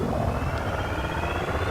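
Spaceship in Elite: Dangerous engaging Super Cruise, a dense continuous engine roar with a broad rumbling hum, loud and steady throughout.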